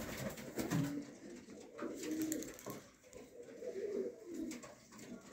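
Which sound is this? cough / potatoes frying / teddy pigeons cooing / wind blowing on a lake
teddy pigeons cooing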